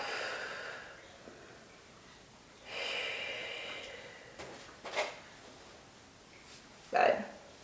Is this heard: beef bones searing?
no